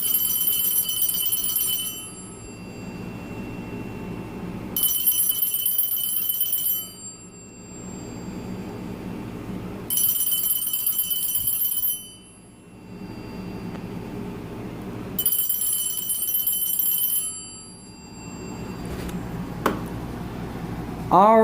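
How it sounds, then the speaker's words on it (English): A Radio Shack 43175 mechanical telephone bell ringer rings in four loud, evenly spaced bursts of about two seconds each, with quiet gaps between them. "it is the Radio Shack 43175 mechanical bell ringer"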